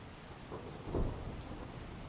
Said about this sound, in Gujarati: ભારે વરસાદ સૌરાષ્ટ્રમાં જોવા મળી રહ્યો છે